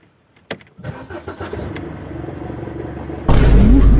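Car engine with a worn, eaten-away catalytic converter: a few clunks as it comes to life, then a steady rough idle that jumps to a louder, heavier rumble near the end.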